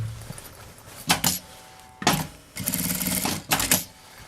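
Bursts of a sewing machine stitching fabric for a travel vanity case, a few short runs of rapid mechanical stitching separated by pauses and quiet handling noise.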